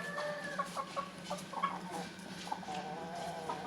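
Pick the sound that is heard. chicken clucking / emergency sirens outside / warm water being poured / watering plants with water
chicken clucking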